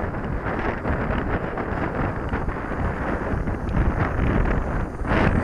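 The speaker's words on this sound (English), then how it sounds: "Well, the wind's just dropped off a little bit, I can fly it a bit better now." Wind buffets the microphone outdoors while a model aircraft with an open wing system flies, a steady, loud broadband roar with gusty swells throughout.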